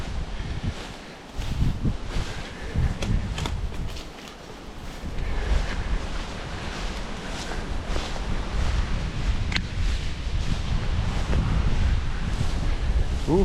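Strong wind buffets an outdoor microphone beside a small river during a fishing outing, a loud continuous roaring rumble with gusty swells that lasts the whole time.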